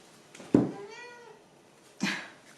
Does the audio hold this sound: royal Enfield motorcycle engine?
no